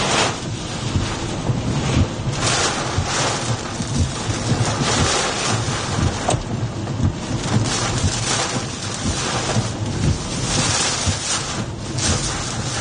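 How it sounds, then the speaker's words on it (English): Strong, roaring wind buffets the microphone outdoors during a tornado storm in South Dakota, a loud, continuous broadband rush with gusting surges and no pauses. "Here comes the wind. Here it comes."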